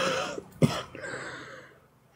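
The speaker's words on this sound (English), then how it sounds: "I don't want to cough on the phone." A single short, sharp cough close to the microphone, followed by faint breathing and quiet background.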